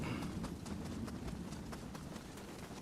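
Rapid rhythmic clip-clop of horse hooves in the video game Nioh 3, steady, evenly spaced and fairly faint, over a low game background.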